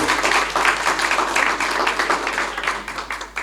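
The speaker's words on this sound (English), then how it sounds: "Give a big round of applause for Ahmed." A crowd applauds the winner of an Urdu debate competition as he comes on stage, with dense, sustained clapping from many people throughout and a faint murmur of voices underneath.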